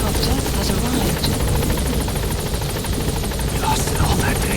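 A support helicopter in Metal Gear Solid V hovers close by, its rotor throbbing in a constant, heavy drone with faint voices beneath.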